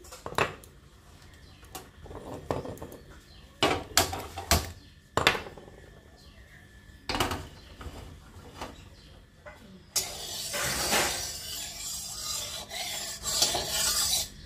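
Leaves being ground by hand into a spice paste (bata), a rough rasping scrape with repeated strokes and short pauses, getting denser and more continuous toward the end; close and fairly quiet.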